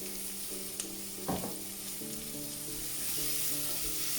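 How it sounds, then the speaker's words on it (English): Onions and chilies hit hot oil with spices for a green tomato curry, sending up a steady close sizzle broken once by a brief clatter while a sustained tone hums underneath. "in go the onions and the chilies"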